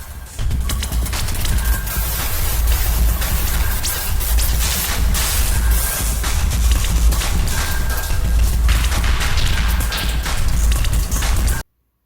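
Gotharman Tiny Little Deformer synthesizer running its sample engine puts out a dense, gritty, noisy texture with crackling transients and constant loud energy, continuing steadily until an abrupt cutoff, with no talking.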